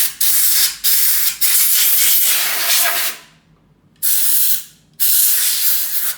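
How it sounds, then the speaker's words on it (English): A can of compressed air sprays in about five sharp, loud hissing bursts of varying length, with brief silent gaps between them, while cleaning a disassembled JTS shotgun. "it's a little can of compressed air"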